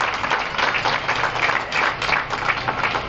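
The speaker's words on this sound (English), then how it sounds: "Give them a round of applause, please." An audience claps at an outdoor holiday tree lighting event, a short burst of steady, dense applause at moderate loudness with no talking over it.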